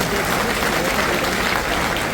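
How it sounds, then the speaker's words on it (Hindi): Sustained applause from an audience at an outdoor political rally and thanksgiving gathering in Banda, steady dense clapping throughout with no break. "तालियां बजा दो"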